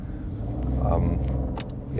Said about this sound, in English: This 3-cylinder, and of course, interesting sound.